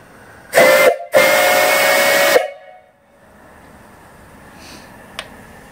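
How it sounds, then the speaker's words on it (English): A homemade steam boiler, 20 inches in diameter with copper tubes and a stack about 80 inches tall, sounds its whistle in two loud, shrill blasts, the second one longer, before a soft hiss lingers. "Really nice whistle on it."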